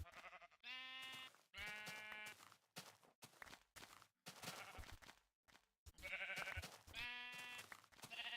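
Sheep in Minecraft bleat repeatedly in short, close, loud cries, several overlapping calls separated by brief pauses.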